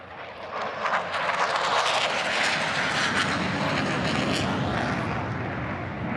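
A Navy F-35C fighter jet with a Pratt & Whitney engine roars loudly overhead on full afterburner during a DC flyover, a dense sustained rush that swells quickly and holds near before easing slightly.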